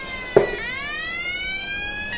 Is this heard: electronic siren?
yes